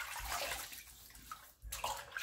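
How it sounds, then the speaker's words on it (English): Running water splashes and sloshes steadily at close range as hands wet a face before a shave, with a brief pause before the splashing resumes. "let me wet the face"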